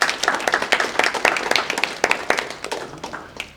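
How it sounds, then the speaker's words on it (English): Members at the ICAI Singapore Chapter's 2024 annual general meeting break into a round of applause, dense overlapping hand claps from a small crowd that swell briefly, then thin out and fade. "I guess we deserve a round of applause here."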